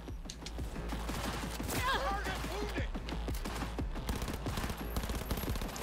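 Automatic weapon fire in Cyberpunk 2077 chatters in a steady, dense stream of shots, fairly close and continuous, with a voice briefly speaking over it.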